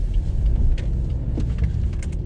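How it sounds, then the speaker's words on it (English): BMW 320D M Sport pulling up in a hard emergency stop, a low car rumble close by with brief scuffing and clicks as it halts, no voices. "Hard on the brakes, straight into reverse, no issues whatsoever"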